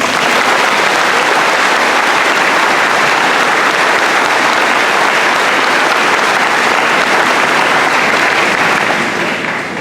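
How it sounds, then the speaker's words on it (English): A crowd at a graduation ceremony applauds loudly and continuously, a dense roar of many hands holding steady throughout. "How about one more round of applause for Ariel"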